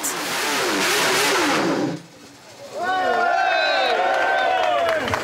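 A Honda six-cylinder 350 cc racing motorcycle engine, a 1967 world-championship machine, revs hard at a classic bike event, drops off briefly, then screams back up with high-pitched rising and falling whines close by.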